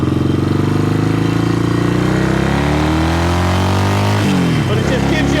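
A 1972 Yamaha XS2 650cc motorcycle idles up close with a loud, steady, throbbing engine note that dips and wavers briefly near the end before settling again.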